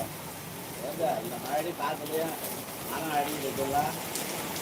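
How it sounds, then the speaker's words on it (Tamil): Heavy rain falls during a storm in Chennai, a steady broadband hiss running through the whole stretch beneath people talking nearby. "புயலுடன் மழை"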